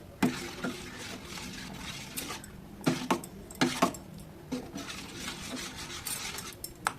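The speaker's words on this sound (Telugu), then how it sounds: "బాగా మిక్స్ చేయండి" A ladle stirring pulihora in a cooking pot, heard as repeated irregular scrapes and metallic clinks against the pot, close and fairly quiet, with no talking.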